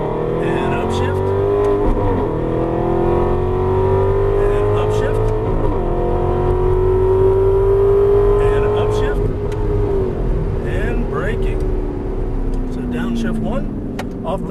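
Aston Martin V8 Vantage on a race track, its engine revving hard and loud up through the gears, pitch climbing then dropping at a shift, with an instructor talking over it.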